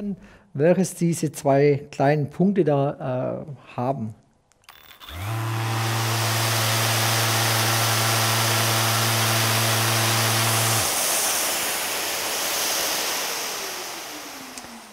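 A Festool ETS EC 150/3 random orbital sander starts up after someone speaks and hums steadily and close for several seconds, then cuts off and spins down with a fading hiss.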